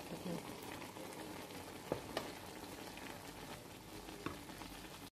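Chicken stir-frying in a pan with vegetables gives a soft, steady sizzle throughout, broken by a few light scrapes or taps of stirring.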